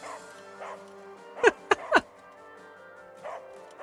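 A cartoon character voices a dog imitation in an anime scene: a few short, sharp bark-like yelps in a quick burst, heard over a low background music bed.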